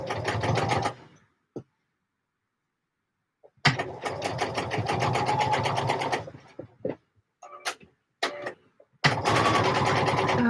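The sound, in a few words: sewing machine sewing a Closet Case Patterns pouf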